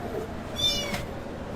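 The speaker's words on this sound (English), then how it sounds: "Look, I'm gonna have to come get you, kitty cat, because you're being very loud." A house cat meows loudly, one short drawn-out call close by, rising above a low steady background hum.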